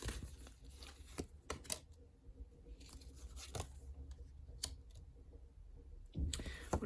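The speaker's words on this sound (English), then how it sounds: "Let's give the cards a good shuffle" Tarot cards shuffled close by, with scattered crisp clicks, flicks and soft papery rustles in irregular bursts over a low background, a faint voice occasionally present.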